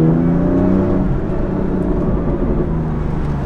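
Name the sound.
BMW M4 Competition with M Performance titanium exhaust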